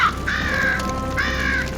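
Crows perched above a burning field give two drawn-out caws about a second apart over a steady background, with no voices.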